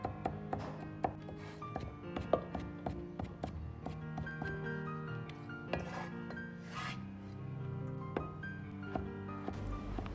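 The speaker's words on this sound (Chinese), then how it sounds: "再切点胡萝卜，先切成薄薄的厚片，再切成丝，最后再切成粒。" Knife dicing carrot on a cutting board into small cubes: a steady run of quick, close, moderately loud chops with short pauses, no voices.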